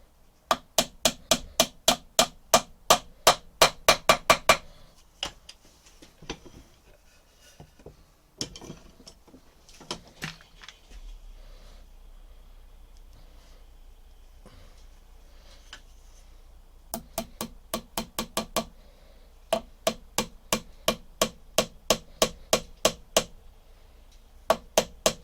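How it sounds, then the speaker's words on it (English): A hammer drives nails into a wooden club in fast runs of sharp, evenly spaced strikes, two long bursts separated by a quieter stretch of handling and light knocks, then more blows at the end. "they want a sort of twist as you nail them in."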